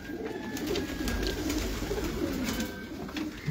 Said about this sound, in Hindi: ये उनके घर के कबूतर हैं और मेन ब्रीडर कबूतर हैं माशाल्लाह